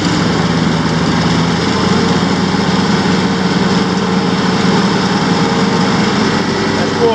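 A 2017 John Deere X350 lawn tractor cuts grass with its engine running steady and loud at close range, a constant droning hum with no pauses.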